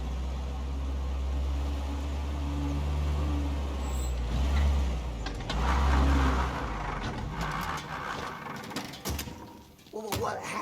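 Car driving in Mafia: Definitive Edition, a low engine rumble rising and falling steadily for several seconds, then rattles and clunks as it slows and stops toward the end.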